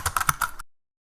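A handful of quick computer keyboard keystrokes in an uneven burst, the last a firmer press like the Enter key, close and clear, then silence.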